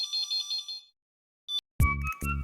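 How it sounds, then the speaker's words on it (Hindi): A phone ringtone chirps in a repeated electronic pattern, stops briefly, then resumes as a louder melodic ring up close. "बहुत जल्दी फोन उठाइए।"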